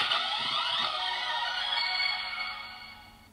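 A DX Laser Raise Riser toy from Kamen Rider Geats plays a brief electronic startup jingle when plugged into the Desire Driver, bright and tonal at first, then fading out over a few seconds with no talking.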